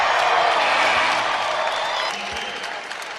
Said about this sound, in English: the Sanford Pentagon crowd cheering MVP